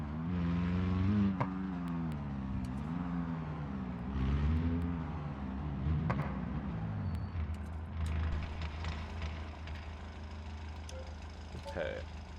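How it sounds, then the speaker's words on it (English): Turbocharged truck engine revving up and down close by, its deep, rumbling tone rising and falling in several swells with turbo whine, continuous and loud throughout. "If you like turbos, you're definitely going to love the sound of this truck."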